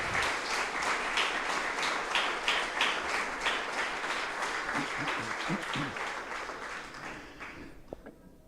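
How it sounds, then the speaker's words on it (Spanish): A church congregation claps loudly for the Lord during a sermon, with a rhythmic beat to the clapping at first, then faint voices and some cheers underneath before the applause tapers off at the end. "Dale un fuerte aplauso al Señor."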